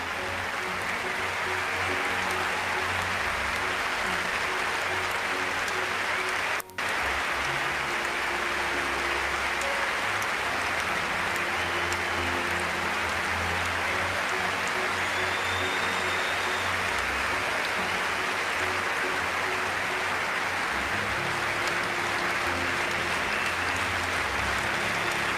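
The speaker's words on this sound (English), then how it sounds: "crowd swelling throughout Olympic Stadium" A large stadium crowd at a track race applauds and roars in a dense, continuous wash of clapping and cheering that holds steady throughout, with one brief dropout.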